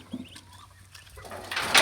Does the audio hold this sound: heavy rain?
no